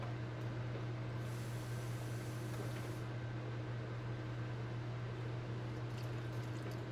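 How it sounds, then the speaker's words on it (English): About a cup of water poured into a cooking pot of carrots makes a brief, soft rush of liquid over a constant low kitchen hum, then the hum continues alone. "Actually, I'm going to add about a cup of water so the carrots can cook."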